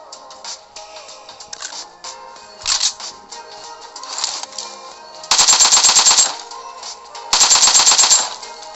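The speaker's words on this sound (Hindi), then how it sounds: "मैं उस पर प्री फायर कर देता हूँ" Rapid automatic gunfire in PUBG comes in two loud sustained bursts over a busy game soundscape, as a player pre-fires at an enemy at close range.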